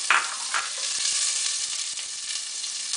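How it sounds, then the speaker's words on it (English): Onions sizzling in heated olive oil for a homemade marinara sauce, a steady close frying hiss with a few light stirring knocks and no talking. "So the oil's heated up, I'm going to go ahead and add the onions."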